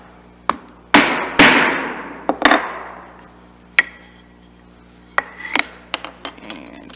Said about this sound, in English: by tapping the chisel in from the end grain